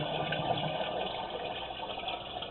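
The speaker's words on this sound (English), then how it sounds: "when the sump flushes its water, it backs up into the catch basin" A sewer sump flushes its water, which backs up into a catch basin, producing a continuous rushing, gurgling flow of water that holds at a steady level throughout.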